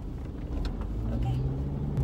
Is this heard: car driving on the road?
yes